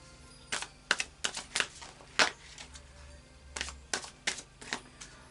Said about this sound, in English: I'll just do a final shuffle now of the Psychic Tarot